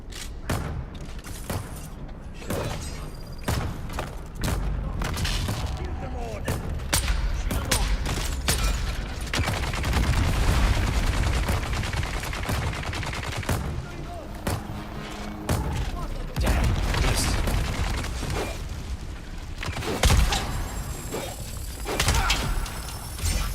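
Dense bursts of machine gun fire and booms in the video game Dune: Awakening, rapid crackling volleys and impacts running almost continuously, with a player talking excitedly over the battle.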